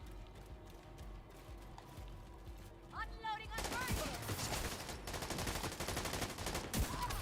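Rapid bursts of gunfire from The Division 2 video game, with sharp repeated shots intensifying in the second half over a steady game background.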